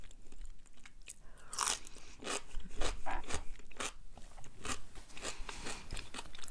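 Someone bites and chews a pickle up close, giving a run of wet, crisp crunches in an uneven rhythm with no speech.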